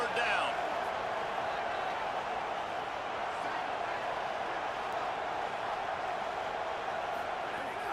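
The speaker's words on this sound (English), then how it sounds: "Decibels rising as the crowd gets behind this defense on 3rd down." Dense, steady stadium crowd roar swells in a College Football 27 video game on a third-down defensive stand, loud and continuous throughout.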